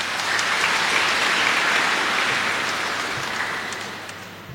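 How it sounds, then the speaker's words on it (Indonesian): Crowd applause at a Mass celebrating the JKKI community's 17th anniversary, a dense, steady wash of clapping from many hands that holds strong for a few seconds and then gradually tapers off. "Tepuk tangan untuk JKKI."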